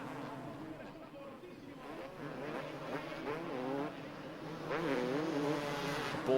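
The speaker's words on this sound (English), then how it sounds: "Bolle really leathering that Yamaha" Several 250cc motocross motorcycles, including a Yamaha, race at a 2005 world championship round, their engines buzzing and rising in pitch at a steady distance beneath continuous commentary.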